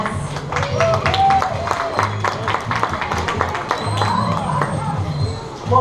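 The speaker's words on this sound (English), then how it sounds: "Go ahead and give yourselves a nice big round of applause." Audience applause at a dolphin show in Miami: a steady wash of crowd clapping and cheering blended with voices and background music, lasting throughout.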